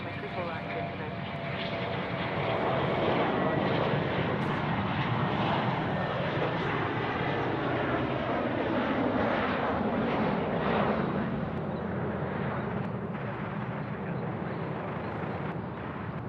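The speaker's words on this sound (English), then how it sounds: "This 717-200 departing off runway 34 right." A Boeing 717-200 jet departing runway 34 right at Sydney Airport, its sustained loud engine roar rising and sweeping past with a shifting tonal whine over the full stretch, with no voices.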